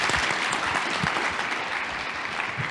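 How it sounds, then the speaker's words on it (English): A graduate student orientation audience applauds its panelists, with dense, loud clapping already under way and holding steady throughout with no voices. "If we could all give them a round of applause."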